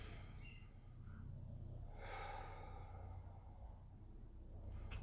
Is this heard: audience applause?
no